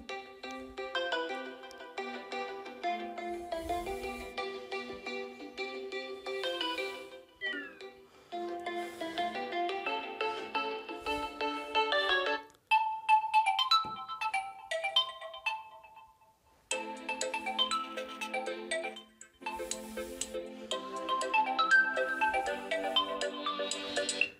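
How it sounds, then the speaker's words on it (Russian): A bright electronic ringtone melody plays loudly from a Realme Q2 5G smartphone, repeating its tune in phrases with short pauses, no talking over it. "Давайте посмотрим, как звучит наш смартфон."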